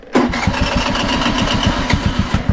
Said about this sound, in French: La moto qui a un peu de mal à démarrer.